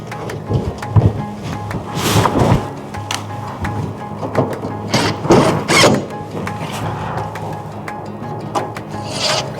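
Plastic air filter cover being pushed back into place over a new filter, heard as a series of close rubbing, scraping and clicking sounds, with a few louder snaps and rattles spread across the span, no talking.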